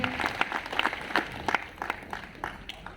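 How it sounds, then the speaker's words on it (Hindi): Applause from a modest crowd at a business seminar in Hazaribag, a flurry of claps at moderate loudness that gradually thins out over a few seconds. "एक बार चाहूंगा आप सभी सर के लिए एक बार जोरदार तालियां बजा दें।"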